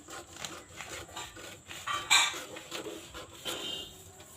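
Scissors cut through fabric for a katori blouse with a quick series of soft crisp snips and rustling cloth, close and quiet, one sharper clip midway.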